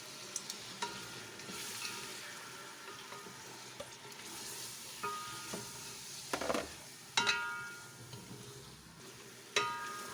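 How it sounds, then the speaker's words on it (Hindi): Peas are tipped into hot oil for matar pulao and stirred, a steady sizzle of frying under sharp scrapes and clinks of a spoon against the pot, close and irregular. "अब हम इसमें 2 कप मटर डाल देंगे।"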